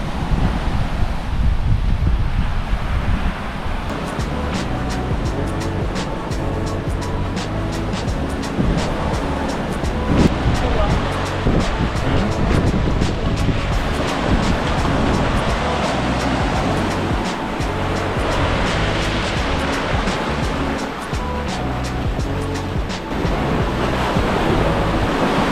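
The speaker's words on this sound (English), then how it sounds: "Hopefully the sound is good because it's windy." Strong wind buffets the microphone while ocean waves roll and crash continuously onto the beach at São Miguel dos Milagres, a loud, dense roar throughout.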